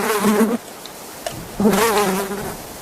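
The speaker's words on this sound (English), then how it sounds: "This deep meaning of the names is embedded in the mysterious buzzing speech of flies." Flies buzzing in two steady droning bursts separated by a short quieter gap, close and loud with no speech.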